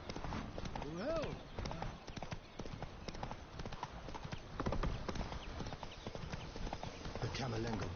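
Horse hooves clip-clop steadily at a riding pace in The Witcher 3: Blood and Wine, with an occasional whinny and a voice talking over the hoofbeats throughout.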